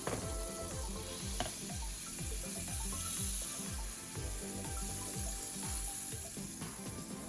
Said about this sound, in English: I'm just taking 1 slice of bread and dipping it into the egg mixture and placing it on the pan.